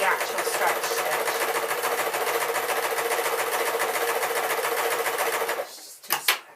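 A sewing machine runs a stretch stitch on a pink dress, its rapid needle chatter loud and steady for several seconds before stopping, followed by a few brief clicks.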